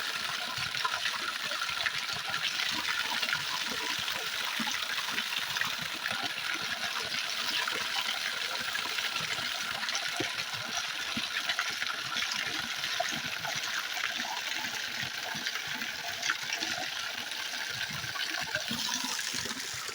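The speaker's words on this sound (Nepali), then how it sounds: "पानी कत्रो ठुलो आइरहेछ हिटले" A natural village water spout gushes hard in rural Nepal, a steady, loud broadband rush of falling water that holds close and unbroken throughout with no talk over it.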